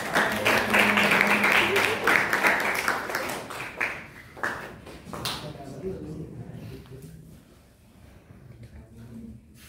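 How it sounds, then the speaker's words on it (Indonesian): A classroom audience gives a short round of applause for a presenter named Tata, the clapping strongest early on and fading out while people keep talking over it. "Nah, boleh tepuk tangan dulu buat Tata."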